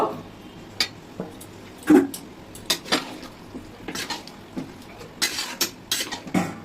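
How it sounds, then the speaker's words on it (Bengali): A spoon scrapes and knocks against a pot while mutton curry with potatoes is stirred, giving irregular metallic clinks and taps spread over several seconds, fairly close and moderately loud, with no talking. "এবার আমি ভালো করে কষাবো। তার সঙ্গে আমি আলুটাও দিয়ে দেব।"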